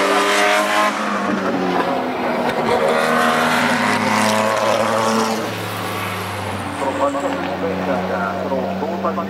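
A 1991 Spice SE91C Group C race car roars past at Suzuka during a demonstration run, its engine loud and sustained, with the pitch shifting as it passes while a commentator talks over it.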